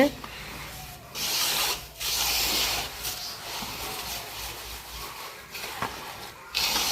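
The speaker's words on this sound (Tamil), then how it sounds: "நல்லா கையாலே கலரணும்." Semolina and egg dough being mixed by hand in bursts of gritty rubbing and squishing, close and fairly quiet, with short pauses between strokes.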